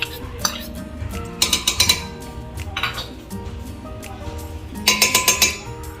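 Dry garlic cloves, 25 to 30 of them, being pounded in a mortar with a pestle for Kumbhaniya bhajiya batter, giving clustered metallic clinks and knocks in two bursts over a steady low background hum.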